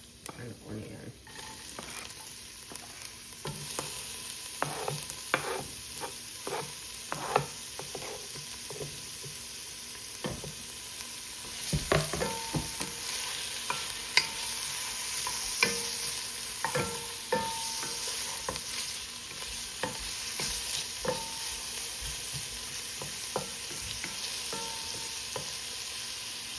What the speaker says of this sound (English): So now I'm gonna go in with garlic and onion.